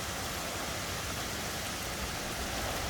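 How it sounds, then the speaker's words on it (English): Heavy rain during a powerful night wind storm, a dense steady roaring wash of noise without letup, loud and close with no voices. "Heavy rain, gusty winds, blowing trees."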